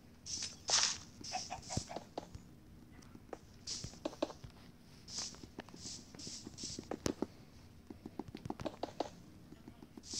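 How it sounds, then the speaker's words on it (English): A chicken clucks in short, intermittent bursts over about ten seconds, fairly faint against room tone, with people talking nearby. "Catherine, there's a chicken."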